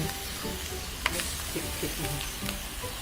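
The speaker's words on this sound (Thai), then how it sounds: "แล้วก็ผัดพริกแกงต่อเลย" Thai curry paste stir-fried in oil in a pan sizzles steadily, with a sharp spatula scrape and a few clacks and pops over the hiss.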